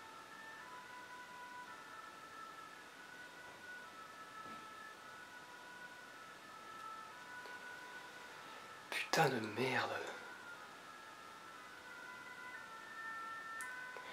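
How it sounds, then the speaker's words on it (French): Faint ambulance sirens wail outside, heard as steady distant tones through most of the stretch. A person whispers quietly nearby, and a louder brief rustle breaks in about two thirds of the way through. "Je sais pas si on entend les pompiers à la caméra là, enfin les ambulances"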